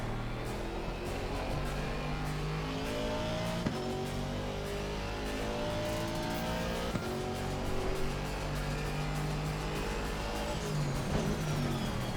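Rallycross race car engine in the iRacing sim, droning steadily throughout with rising and falling gear-change harmonics and a few sharp shifts, loud and continuous with no talk.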